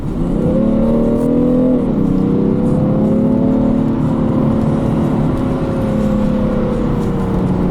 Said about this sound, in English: Sounds like a six cylinder, but we're not sure. With it being a diesel.